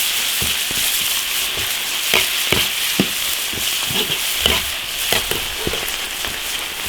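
Pork skin stir-fries in an iron wok with chili sauce, Sichuan peppercorns, dried chilies, spices and hotpot base, giving a steady close sizzle broken by repeated scraping strokes of the spatula, with no talking.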